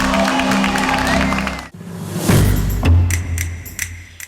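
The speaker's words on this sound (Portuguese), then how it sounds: "a série de confrontos teve fim ao som de aplausos." A crowd claps and cheers at the end of street protest clashes with riot police in Vitória, Brazil: a dense, noisy wash of outdoor applause and voices with a few sharp thumps, mixed with people talking.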